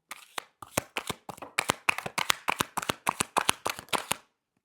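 Tarot cards riffled and shuffled in the hands, a quick run of crisp, close flicking bursts in a steady rhythm that then stops, with no talking.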